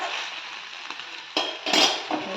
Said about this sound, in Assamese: অকণমান নিমখ সিজিবলৈ আৰু এনেকৈ দি পেলাই ভালকৈ লাৰি কৰি দিলোঁ।